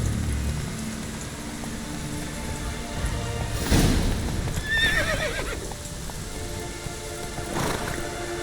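Roach the horse from The Witcher 3 video game neighs in a rising whinny mid-clip, with soft hoof clops and a steady patter of rain around it, no voices.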